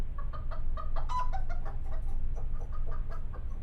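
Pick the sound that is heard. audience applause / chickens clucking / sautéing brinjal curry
chickens clucking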